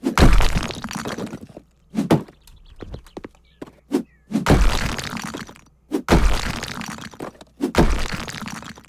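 A sledgehammer smashes in House Flipper, with loud, heavy cracking impacts of breaking material at irregular intervals, each hit followed by debris and pauses of quiet between them.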